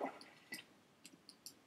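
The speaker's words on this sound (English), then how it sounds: "as a click sound for the button, we use the splash sound previewed here" A short watery splash used as a button click sound effect, a brief drip-like burst followed by a few faint, quick droplet blips, soft and close with no talk.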